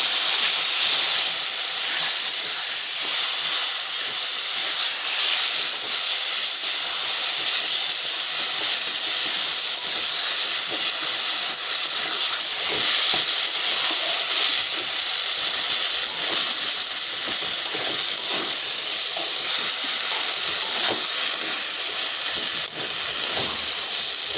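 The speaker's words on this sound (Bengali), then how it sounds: "কচু শাকটা দিয়ে আমি ভালো করে নাড়াচাড়া করে নেব" Taro leaves cooking in a pan give off a loud, continuous hiss and sizzle that holds steady throughout, with faint stirring under it and no talking.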